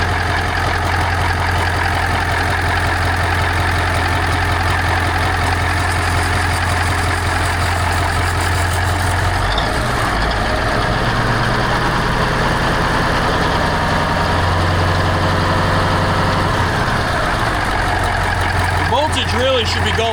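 A 1982 Marmon truck with a 3408 CAT diesel runs at a steady, loud, close idle with a deep low rumble and a brief rise in pitch near the end, with voices talking over it.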